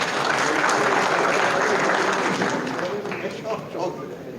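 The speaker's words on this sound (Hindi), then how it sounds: "जरा तालियां हो जाए बहनों और भाइयों।" Dense, steady audience applause fills the hall at a Doctors Day award ceremony in New Delhi, loud and sustained before slowly thinning out toward the end.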